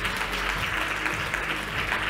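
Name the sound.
audience applause welcoming a panel to the stage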